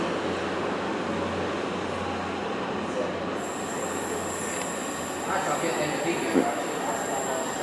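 A train pulls out of Newton Abbot station on the Great Western main line, a steady rumble of wheels on rail with a long high squeal, heard close from the platform with some talk in the background.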